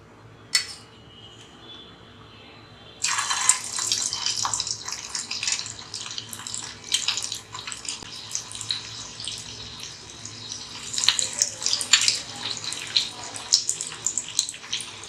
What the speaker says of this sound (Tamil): இப்போ நம்ம எண்ணெயில் ஃப்ரை பண்ணிக்கலாம்.